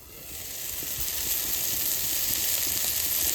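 Pea-shoot greens with green chillies sizzling in a covered wok as the lid comes off, a steady bright hiss of frying and steam that swells and holds, with no talking.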